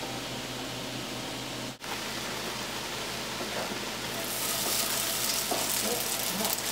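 Onions fry in a pot on the stove for a chili, a soft continuous sizzle with a brief dip in the middle that swells louder and brighter toward the end, with no talk.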